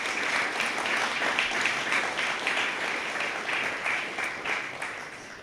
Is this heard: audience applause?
yes